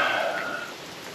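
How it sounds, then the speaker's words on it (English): Rain falls on a dark, gray morning in the mountains, a soft steady hiss of drops with a brief brighter patter at the start that settles into a quieter wash. "It's a dark, gray, rainy morning."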